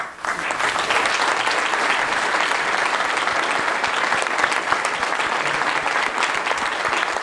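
A large audience claps steadily and loudly throughout, a dense sustained wash of applause with no talk over it.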